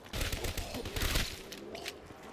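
An MP40 submachine gun fires in the Black Ops 3 zombies map Nacht Der Untoten, a loud, rapid burst of closely spaced shots that rattles for about a second before trailing off into fainter pops.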